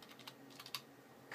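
Quick bursts of typing on a computer keyboard while searching for the control panel on a desktop computer, a few scattered keystrokes close up and fairly quiet, with no talking.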